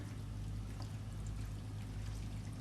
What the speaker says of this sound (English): that's just the tap in the hot water